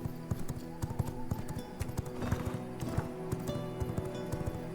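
Horse hooves clip-clopping in V Rising, a brisk, close, steady rhythm of sharp hoofbeats over a layer of game music.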